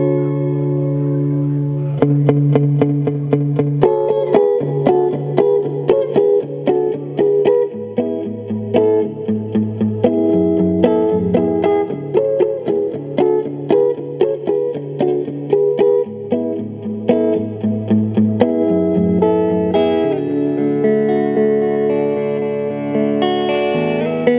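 Electric guitar, a 2022 Fender American Ultra Stratocaster on the neck pickup, played through a warm, slightly driven tube amp, with picked chords and single notes ringing with reverb, continuous and up front.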